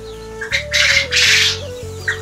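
Birds squawk and flap their wings close by while chickens peck at them, three bursts of rustling wingbeats with short harsh calls over a steady low hum.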